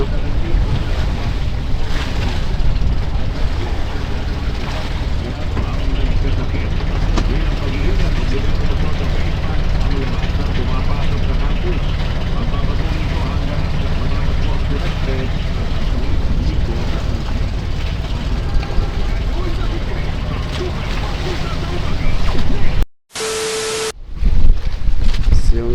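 Gusty northeast monsoon wind buffets a boat out at sea on the Pacific, making a loud, continuous roar of wind and water that briefly drops out near the end before returning.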